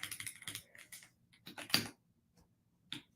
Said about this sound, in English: This keyboard is new.